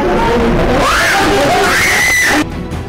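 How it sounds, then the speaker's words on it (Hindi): Loud, close screaming and wailing fill a house during a violent home invasion in which a married woman is seized and kidnapped. Rising and falling shrieks mix with agitated voices and then cut off abruptly near the end. "घर में मची चीख पुकार ही आपके रोंगटे खड़े कर देगी।"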